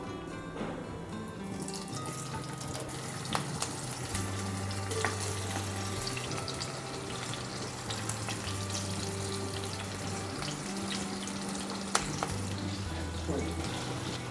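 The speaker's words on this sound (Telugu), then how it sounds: "3 to 4 టేబుల్ స్పూన్స్ ఆయిల్ తీసుకొని కొంచెం వేడి చేసి మనం స్టఫ్ చేసుకున్న దొండకాయల్ని దీంట్లో పెట్టాలి" Oil sizzles steadily as stuffed ivy gourds coated in gram flour fry in a few tablespoons of hot oil, a constant close crackle with occasional sharper pops. No one speaks.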